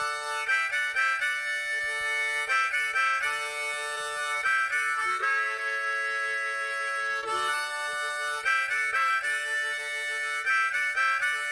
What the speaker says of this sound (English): Harmonica.